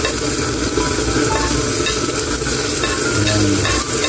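Onions frying in hot oil as they are stirred, a steady loud crackling sizzle with occasional scraping of the utensil through the pan, continuous throughout and without speech.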